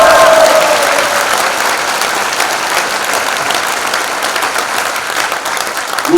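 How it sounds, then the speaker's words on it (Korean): Loud, sustained audience applause from a crowd at a political party rally, thick clapping that starts strong and stays steady, with a faint voice briefly audible at the start. "그것에 동의하시면은 한번 큰 박수 주십시오."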